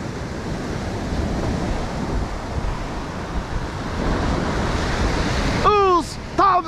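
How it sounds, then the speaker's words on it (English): Ocean waves break and wash continuously on a rocky coastline during land-based fishing, a loud roaring surf mixed with wind, with brief high voices or cries near the end. "Careful of those waves."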